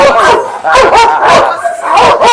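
A dog barks and yips repeatedly at close range, loud rhythmic bursts with whiny edges, and people talk in the background.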